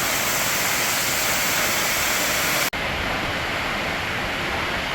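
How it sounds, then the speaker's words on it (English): Steady broadband rush of a waterfall in the Watkins Glen gorge, continuous and fairly loud with no voices, broken only by one brief dropout. "There's another nice waterfall."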